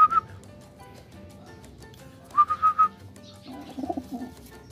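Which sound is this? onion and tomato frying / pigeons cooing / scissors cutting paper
pigeons cooing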